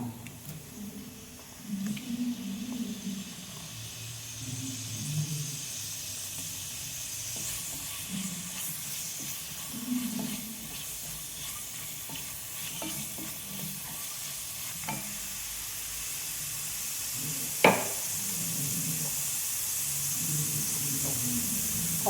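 Onions frying in a hot pan for goat intestine curry: a steady, moderate sizzle and hiss with repeated soft scraping stirs over a long stretch, one sharper clack near the end, and no speech.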